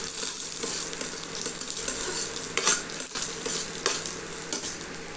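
Tempering spices spluttering and crackling in hot oil for mango dal, a steady dense sizzle with sharper pops and a few metallic clinks of a spoon or pan, close and continuous with no talking.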